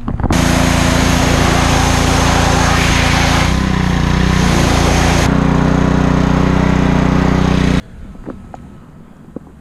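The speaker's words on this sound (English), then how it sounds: "now we're gonna power wash the residue off, and it's gonna leave us with literally perfect rims" A pressure washer blasts wheel cleaner residue off car rims, a loud, close, continuous roaring spray with a motor drone whose pitch shifts as the jet moves, then cuts off abruptly near the end, leaving quiet room noise with faint clicks.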